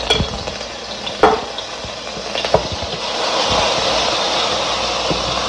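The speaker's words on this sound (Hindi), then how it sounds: "और उसमें डालेंगे 1 टेबल स्पून जो है अदरक लहसुन का पेस्ट" Ginger garlic paste sizzles in hot cooking oil in a home kitchen, a steady broadband hiss with a few sharp clicks and spatters near the start, growing slightly fuller and louder after a few seconds, no voices.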